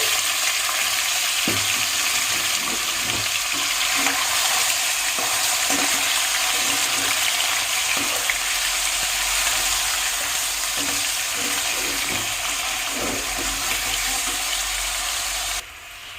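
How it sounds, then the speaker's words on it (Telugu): Paneer cubes fry in a hot pan with a steady, dense sizzle throughout, broken by occasional soft clicks and knocks of stirring, with no voices. "మనం ముందుగా కట్ చేసి పెట్టుకున్న పన్నీర్ ముక్కల్ని ఇందులో వేసుకొని మంచిగా ఫ్రై చేసుకోవాలి."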